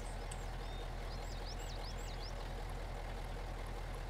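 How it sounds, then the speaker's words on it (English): A diesel truck engine in the Spintires MudRunner off-road driving game runs at a steady low idle, a continuous faint rumble with no speech and some high whistling tones briefly overhead. "The engine started."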